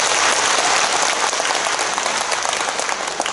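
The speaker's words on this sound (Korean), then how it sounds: "박수로 환영합니다" At a school entrance ceremony, a crowd applauds, dense steady clapping filling the room without pause, loud and close throughout.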